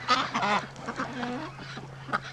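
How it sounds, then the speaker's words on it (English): Ducks quack in a noisy, overlapping burst near a garden hose being turned on, several calls in quick succession early on, then softer scattered quacks with a steady low hum underneath. "Oh, the ducks, they're all coming out because I got the hose here."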